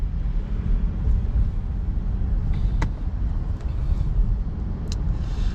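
Steady low rumble of road noise inside a moving car, a continuous broadband drone with a few faint clicks and rustles over it.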